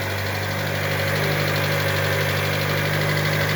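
A Hyundai Elantra from the 2011–2014 years idling steadily, its engine giving an even, close, continuous hum with a faint mechanical ticking throughout and no one talking.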